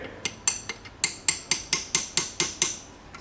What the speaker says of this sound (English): when you're tapping this in, you want to use a very dull chisel and not a lot of force